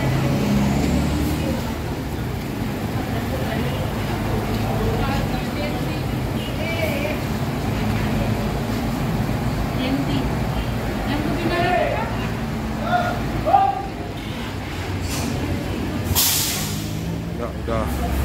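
Economy-class non-AC Batang Pane Baru bus pulling in at a stop, a steady low engine and road rumble with brief air-brake hisses near the end, while people talk over it.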